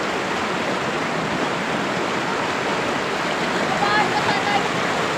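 A river's steady rushing water flowing continuously, a broad dense wash of sound, fairly loud and close, with faint voices briefly audible near the end.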